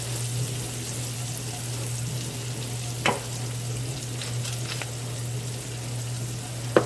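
Zucchini noodles frying in a pan give a steady close sizzle with a constant hum beneath, broken by a couple of sharp scraping knocks from stirring.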